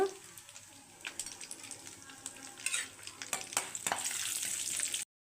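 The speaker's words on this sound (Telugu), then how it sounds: "బాణల్లో నెయ్యి వేసుకున్నాము ఇందులోకి బాదంని గోడంబుని కూడా వేసేసి ఫ్రై చేసుకుందాము" Almonds and cashews frying in ghee in a pan for sabudana rava barfi, a close, steady crackling sizzle broken by repeated scraping stirs that grow louder toward the end before cutting off abruptly.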